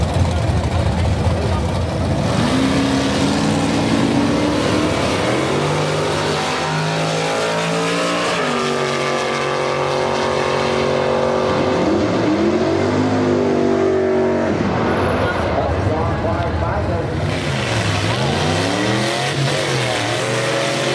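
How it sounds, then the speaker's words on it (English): B-Modified Production drag race cars roar loudly at a nostalgia drag race at Beaver Springs, with engines revving and rising in pitch as they accelerate, and a voice faintly audible under the noise. "Out next are some of the B-Modified Production cars."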